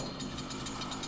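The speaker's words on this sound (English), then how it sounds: "let's get ready for a brutal fucking chainsaw kill" A chainsaw whirs in a DOOM game kill, a loud dense grinding buzz with rapid pulsing revving throughout a brief burst.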